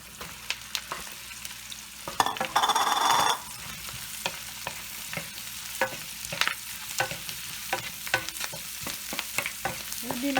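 Mushrooms stir-frying in a pan of seasoned vegetarian pasta sauce: a steady sizzle with repeated scraping strokes of a utensil, one brief louder burst of frying early on, and no talking.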